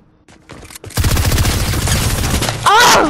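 Gun Game gunfire, a loud sustained automatic burst after a quiet start, ending as a voice shouts over it.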